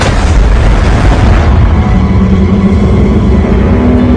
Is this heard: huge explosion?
yes